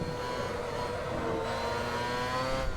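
A Ferrari F138 Formula One car in the Assetto Corsa racing sim, its high-revving engine screaming steadily with a smooth sustained tone and small pitch shifts while lapping the circuit, heard alone with no voices.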